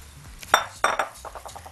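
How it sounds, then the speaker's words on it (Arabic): Rice being stirred in a metal pot with a spoon, a few scraping clinks and soft shuffling strokes close by, with no talk. "هديله تقليبه"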